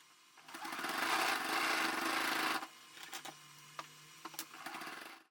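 A sewing machine stitching a sling bag at a longer stitch length runs in a steady, loud burst for a couple of seconds, then falls to quieter intermittent clicks and handling noises.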